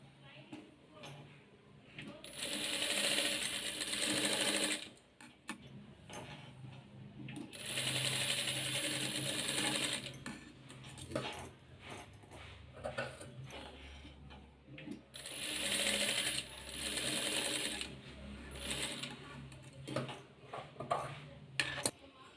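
Sewing machine joining fabric pieces for round neck piping, running in three long bursts of fast rattling stitching separated by pauses, close, with someone talking between the runs.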